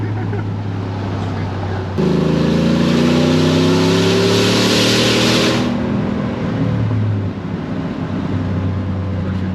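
2019 Ford F150 with a Whipple Stage 2 supercharger and deleted muffler, a low engine drone that swells into a louder acceleration roar midway before easing back, heard from inside the cab.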